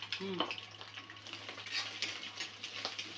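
Rice fries in a pan for Chinese-style fried rice, giving a quiet, continuous sizzle with light stirring scrapes and a faint steady hum underneath.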